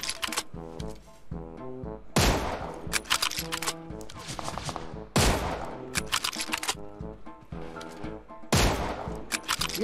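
Automatic gunfire in PUBG Mobile, with repeated loud, rapid bursts of shots in a steady rhythm over game background sound, close and dominant.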